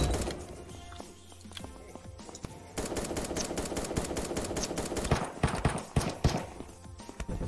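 Gunfire in a battle royale video game, a steady run of rapid shots over a dense game backdrop, ending in a few louder, heavier bursts.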